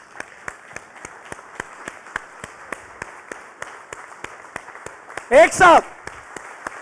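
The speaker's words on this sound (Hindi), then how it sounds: "मैं ये चाहूँगा कि आप सब खड़े होकर तालियां उन वर्कर्स के लिए बजाएं जो हमें नजर नहीं आते" Rhythmic unison clapping from a standing audience at a televised awards ceremony, sharp regular claps about three per second, with a voice briefly speaking over them near the end.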